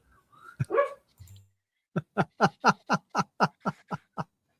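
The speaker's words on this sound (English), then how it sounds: "That's the dog dreaming." A sleeping dog barking in its dream, a few muffled whimpering yips followed by a quick run of about ten short, soft, rhythmic woofs, close and alone in a quiet room.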